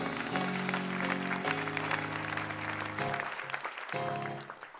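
A church congregation applauding during a sermon, with a continuous close burst of clapping that blends with a sustained organ-like musical tone.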